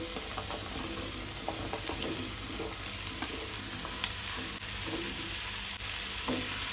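Vegetables tipped in with fried onion sizzle steadily in a pan for a Goan white-gravy veg kurma, with scattered scrapes and stirring clinks throughout, close and continuous with no voices.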